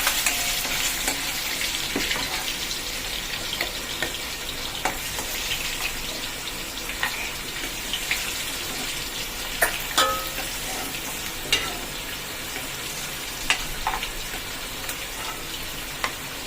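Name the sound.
cashews and almonds frying in ghee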